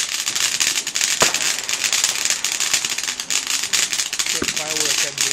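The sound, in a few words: fireworks exploding on bonfire night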